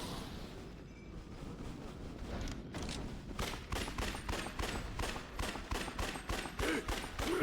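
Rapid automatic weapon fire in the video game Yakuza Dead Souls, starting after a short lull and continuing as a dense run of evenly spaced, loud shots over constant game noise.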